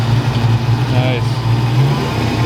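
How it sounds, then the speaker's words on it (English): A Ford Fox body Mustang engine idles with a steady low rumble and a brief slight rise in pitch, while a person talks over it. "That's just a good sounding Fox body"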